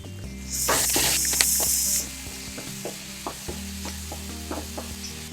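Onions sizzle and crackle in a hot pan for egg podimas, with a burst of loud hissing early on, then quieter frying and occasional stirring clicks.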